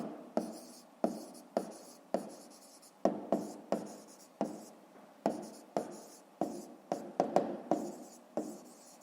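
Pen writing out an answer in brackets for a fifth-grade math exercise, crisp scratching strokes in short repeated bursts with small taps between them, close and quiet.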